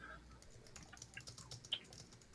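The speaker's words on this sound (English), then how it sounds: "Still typing." Quiet typing on a computer keyboard, a rapid, uneven run of soft key clicks heard at a distance under faint background noise.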